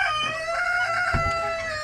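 Chickens cluck with a rooster crowing close by on a rural property, steady and fairly loud with no talking over it.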